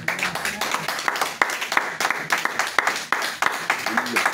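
A church congregation claps together, the sharp irregular slaps of many hands forming steady applause in a reverberant hall, with voices mixed in under the clapping.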